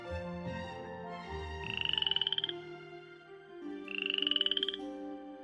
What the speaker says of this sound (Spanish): Entre ellas destaca la rana dardo venenosa, conocida científicamente como Dendrobates